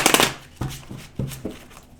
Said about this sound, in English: I'm going to bring this tarot deck over here and shuffle a little bit.